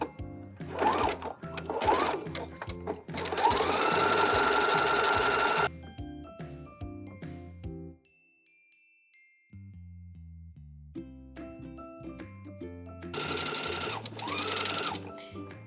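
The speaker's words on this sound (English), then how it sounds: "when you're doing the zigzag stitch, you want to make sure that you're placing your fabric in the center of the foot" A sewing machine running a zigzag stitch to bind the raw edge of thick wool fabric for a folded hem, with loud, steady mechanical whirring in two long bursts split by a quiet pause, close by.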